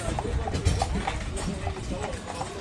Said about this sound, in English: Here's where you pick up the horse to go up to Neuschwanstein Castle